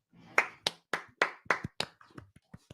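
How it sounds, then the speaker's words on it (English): A slow golf clap: about nine separate, soft hand claps spaced unevenly over under three seconds, close and dry with no voices, offered as a polite welcome on a football talk show. "Golf clap."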